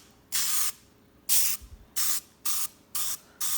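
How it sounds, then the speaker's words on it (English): A Misto sprayer mists healthy cooking oil in six short, sharp hissing bursts, each under half a second, separated by brief pauses, close and clear with no talking. "spray our misto with our healthy oil in it"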